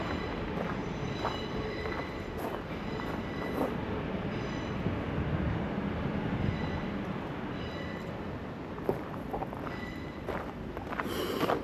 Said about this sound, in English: You can hear those trains heading south.